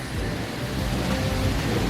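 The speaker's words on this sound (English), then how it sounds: "The little waterfall at night." Continuous rushing of water from a small waterfall at night at a restaurant at the Waldorf Astoria in Cabo San Lucas, a steady broadband roar with a heavy low rumble and no pauses or voices.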